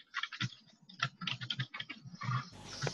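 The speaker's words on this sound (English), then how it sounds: "Someone's got a really loud keyboard right now." Rapid, uneven clacking of computer keys, loud and close, with bursts of keystrokes tapping out in quick irregular runs.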